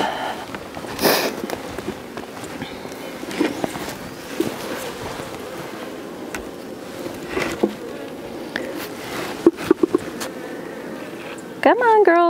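Honeybees buzz around a crowded hive on a farm, a soft continuous drone broken by scattered clicks and knocks from handling, with a voice briefly audible.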